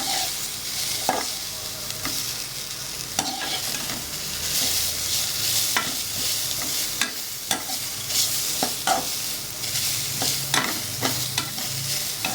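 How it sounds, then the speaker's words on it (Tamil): Beetroot sautés in a pan with salt, giving a constant sizzle. Frequent stirring scrapes and knocks break through the sizzle at an irregular rhythm, and no one speaks. "நல்லா வதக்கி விடணும்."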